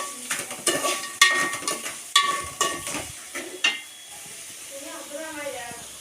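Tempering ingredients with salt sizzle and crackle in a pan, with loud clattering stirring strokes in an irregular rhythm up close, before the frying settles into a softer hiss as a voice speaks.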